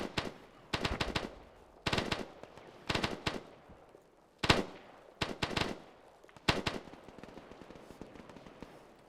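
Gunfire during the Operation Brimstone battle game, played with the 6th Airborne Division: repeated short bursts of automatic fire, loud and close, arriving in irregular clusters with gaps between them over several seconds.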